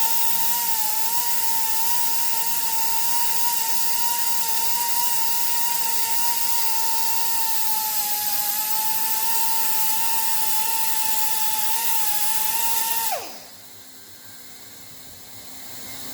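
A power tool buffs a black water tank during a van conversion, whining at a steady pitch close by for about thirteen seconds before spinning down abruptly, leaving a quieter hiss behind.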